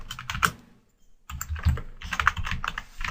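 Code being typed on a computer keyboard: close, brisk clusters of key clicks in uneven bursts, with a short pause in the middle, and no talking.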